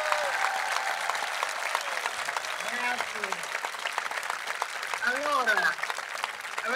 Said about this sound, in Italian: C'è un applauso fortissimo per Gaspare!